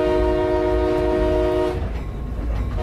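A train horn blasts steadily from the conductor's seat of a moving locomotive, then cuts off, leaving the rumble and rattle of the rolling train close by; no one talks.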